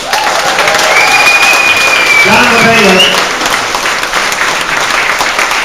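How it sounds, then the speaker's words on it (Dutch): Audience applause for fitness instructors at a charity event, a steady crowd clapping loudly throughout with a voice speaking over it and some whistles or cheers mixed in. "keihard applaus voor onze instructeurs van Sporting Fit."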